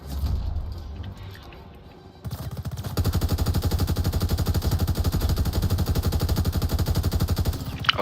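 Rapid machine-gun fire in Call of Duty WWII, a loud, fast, steady stream of shots that starts after a quieter opening of about two seconds, with no talk.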